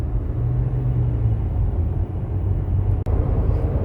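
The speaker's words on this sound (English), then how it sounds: "with the ECT power button on, I push the throttle down a little bit more" A third-generation Toyota Tacoma with an Overland Tailor tune and the ECT power mode engaged accelerates, giving a steady low engine and road rumble heard from inside the cab, with a brief dip partway through.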